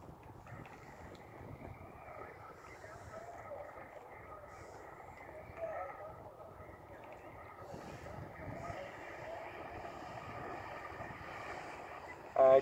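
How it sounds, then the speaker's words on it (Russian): A steady boat motor drone carries through an underwater acoustic radio link from a launch-mounted hydroacoustic station. The hum is low and continuous, with hiss and a faint murmur of distant voices running throughout. "Слышно хорошо, но присутствует шум от мотора."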